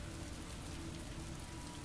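Rain in the video game Heavy Rain: a steady, even downpour pattering on surfaces, constant and fairly close, with no voices.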